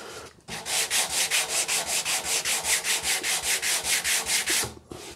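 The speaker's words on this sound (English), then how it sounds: "we can now just give this a very quick sand over. I'm going with 180 there." A guitar part for a Rickenbacker 620/12 build is sanded by hand with 180 grit sandpaper, giving a loud, close, rhythmic series of about twenty quick back-and-forth rasping strokes between short pauses.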